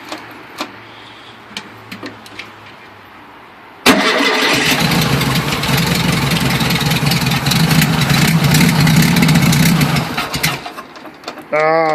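A VW Super Beetle engine cold starts on a 21°F morning without choke, catching suddenly after quiet clicks and then running in a loud, rough, steady idle before it cuts off.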